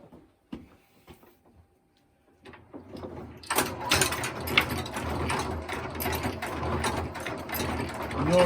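A 1920s yarn mill machine winding yarn back into hanks starts with a few clunks, then chugs along steadily with rattling, ratcheting gear noise, loud and close, running continuously.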